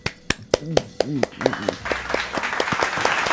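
A single person clapping for Tariq, a few sharp separate claps near the microphone mixed with voices talking, then a quicker patter of claps toward the end.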